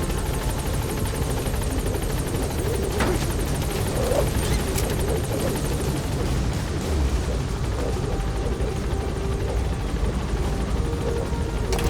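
In Metal Gear Solid 5: The Phantom Pain, a chopper lifts off and flies away, a loud, continuous rotor roar with steady low thumping and a few sharp transient bangs mixed in.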